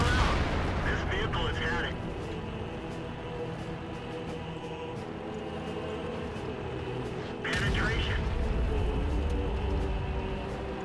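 An M41 self-propelled artillery gun in World of Tanks fires a heavy salvo, a sharp booming blast at the start and another about seven seconds later, over a constant low engine and battle rumble.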